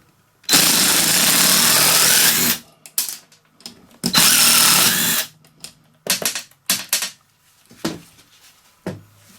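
Two loud bursts from a power tool driving out 8mm bolts on a Stihl 4-mix engine, each lasting about two seconds, followed by a scatter of short clicks and clinks from parts being handled.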